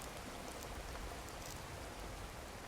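Steady rain pours continuously in the survival game Card Survival: Tropical Island, a dense, even hiss of drops on a surface with no pauses, moderately loud and alone without talk.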